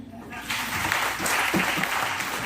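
Group clapping at a training session on cow-based products, starting after a brief quiet moment and continuing as steady applause with some voices mixed in.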